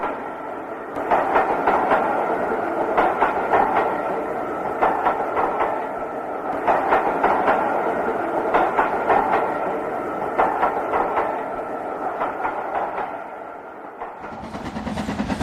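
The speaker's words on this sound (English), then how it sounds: "Scotsman exits Brandam docks with a special" A model Scotsman steam locomotive pulls out of the docks hauling a train of coaches, with a steady loud rumble and rhythmic clickety-clack of wheels over rail joints that continues throughout before easing near the end.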